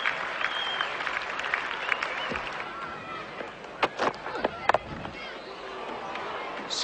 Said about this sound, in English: warm applause from his own dressing room